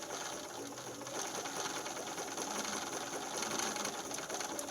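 A Bernina sewing machine with a stitch regulator stitches through felt, giving a steady, close mechanical whir and rapid ticking of the needle that runs continuously without pause.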